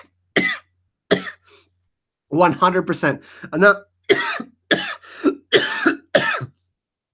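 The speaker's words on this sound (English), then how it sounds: "You guys made me laugh so hard that I'm coughing and dying." A string of sharp coughs from laughing, in bursts, some spaced apart and some in quick clusters, with a few short spoken words in between.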